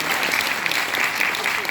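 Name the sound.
audience applause at political town hall meeting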